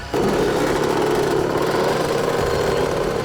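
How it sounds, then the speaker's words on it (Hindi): Motorcycle engine running steadily at close range, a continuous mid-pitched drone with no talk. "अभी अभी एक पीली बाइक में और उसके पीछे पीछे एक रेड बाइक में एक आदमी निकला है"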